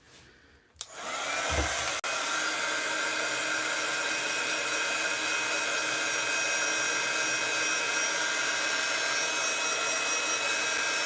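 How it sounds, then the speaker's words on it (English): A heat gun dries alcohol ink on card pieces, switching on with a brief click and thump before settling into a steady, loud whooshing drone that holds without break. "I'm going to have the heat gun on a bit because I need to just dry these"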